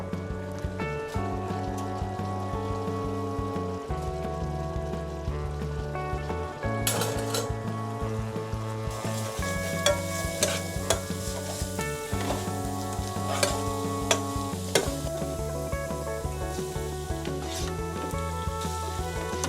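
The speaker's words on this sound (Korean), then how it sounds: "여기 리조또 위에 올릴 갑오징어를 좀 볶아 놓으려고" Cuttlefish stir-fries in a hot pan with a steady, loud sizzle, punctuated by clinks and scrapes of utensils against the metal, over a constant low background hum.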